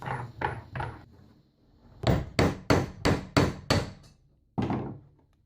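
A hammer strikes a center punch to cut out a coin ring blank: three quick metallic blows, a pause, then six hard evenly spaced hits and one final strike, loud and close with ringing decay.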